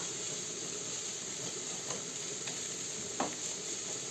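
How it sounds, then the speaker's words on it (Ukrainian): Chopped onions fry in oil with a steady, soft sizzle and occasional faint clinks of stirring, close and unaccompanied by talk. "Підсмажуємо цю цибульку."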